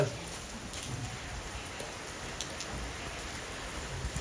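Steady rain falls in a dense, even hiss of drops hitting surfaces nearby, continuous throughout with no other clear sounds.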